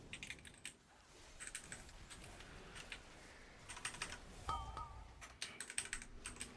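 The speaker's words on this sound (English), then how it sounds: "I'm playing two hands on keyboard right now." Computer keyboard typing while playing a game with both hands on the keys, with the mouse unplugged: rapid, irregular clusters of clicky keystrokes, fairly faint and close, with brief game sounds mixed in.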